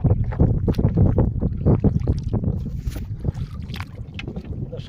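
Wind and choppy waves on the Brahmaputra river around a fishing boat setting nets, a steady near rush of wind buffeting and water churning throughout.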